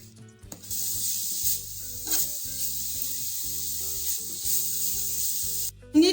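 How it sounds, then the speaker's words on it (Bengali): Four grated carrots fry in hot ghee in a kadai, giving a soft, continuous sizzle with faint stirring scrapes under background music. "চারটে গ্রেটেড করে রাখা গাজরটা আমরা কড়াইয়ের মধ্যে দিয়ে দিলাম"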